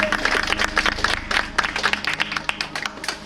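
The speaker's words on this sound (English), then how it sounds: "Let's give our final 3 a round of applause." Loud, dense applause with sharp individual claps for the final three contestants at a backyard Survivor finale, sustained throughout with a low hum beneath.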